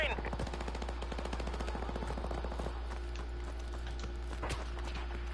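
Gunfire in Modern Warfare Remastered during a Search and Destroy match: rapid clattering bursts at first, then a few scattered sharp single shots, all fairly quiet and distant.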